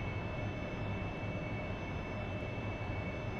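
Jet engine of an AV-8B Harrier in the DCS flight simulator, a steady loud roar with a high whine running evenly throughout and no talk over it.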